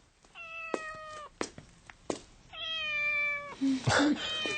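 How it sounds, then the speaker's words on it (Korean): A small cat gives several high, thin meows, a couple short and one longer, with quiet room noise and faint rustling between them. "아내는 또 어디론가 나가더니 새끼 고양이 한 마리를 안고 들어섰다."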